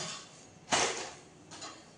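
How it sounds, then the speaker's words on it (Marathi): A sudden metallic clatter of cooking pots falling onto a hard surface, followed by a second, softer clang a moment later, with no voices. "अजून दोन भांडी पडलं या"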